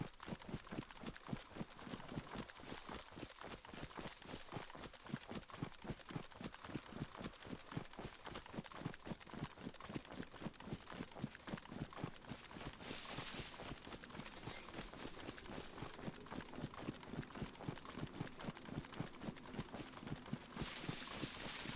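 Footsteps run on a loose shingle beach in DayZ, a steady fast crunching rhythm of even steps continuing throughout at moderate loudness.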